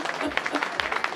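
Scattered clapping from a gospel church congregation, a few pairs of hands slapping in an uneven, sparse rhythm at moderate distance, with faint voices mixed in.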